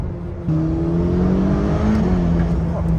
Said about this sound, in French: tout le monde est en train de chauffer les pneus